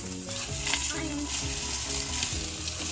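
Smoked pork steaks sizzling in a pan, a steady close frying hiss with faint clinks, under quiet background music.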